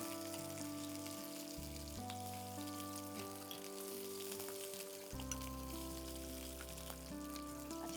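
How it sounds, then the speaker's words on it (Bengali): Potato and drumstick (sajne data) pieces fry in a pan for a Bengali mango-wadi curry, a soft continuous sizzle with light crackle under a quiet tonal hum, with no talk. "আলুটা আর সজনে ডাঁটাটা সামান্য ভাজা হয়ে গেছে"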